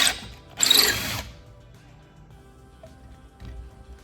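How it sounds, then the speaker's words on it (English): A hole saw bores through wood in a brief loud burst, stops, then buzzes again in a second short run before quiet handling noise and a soft thump. "I'm going to drill all the way through in order to get the wheel or the hole stuck inside the saw"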